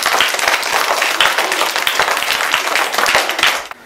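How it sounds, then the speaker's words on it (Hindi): Children in a classroom clap together for a classmate, a dense burst of applause lasting several seconds at steady loudness before stopping abruptly at the end. "सब ताली बजाएं"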